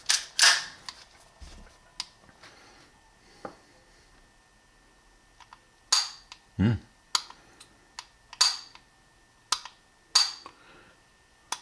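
A Springfield Armory 1911 pistol, factory TRP or Emissary, worked by hand: sharp, close clicks of the trigger and grip safety come singly and in short pairs, spaced by quiet pauses, with no talking.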